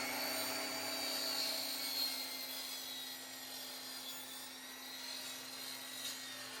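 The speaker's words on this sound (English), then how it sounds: "take it over to the my miter saw and just slice off the ends here" A miter saw runs while trimming the ends off a piece of scrap wood, giving a steady, fairly quiet motor drone with a constant tonal whine and no voices.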